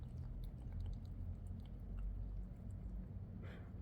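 A hungry stray cat eats food outdoors, its faint, quick chewing and crunching steady and close over low background rumble.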